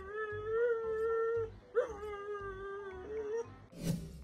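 A dog howls in long, wavering, sustained tones, close and fairly loud, with a soft rhythmic backing underneath and a brief yip near the end.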